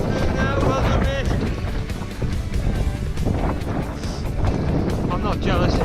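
Strong, cold wind roars and buffets the microphone during a winter half-marathon fell race on muddy hill ground between Dunmore and Hedgehope. The gusting noise is loud and continuous, with a runner talking over it.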